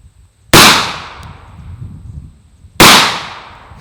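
Two sharp, loud pistol shots from a Rock Island Armory 1911 fired at a tomato, each a sudden crack with a long decaying echo, a couple of seconds apart.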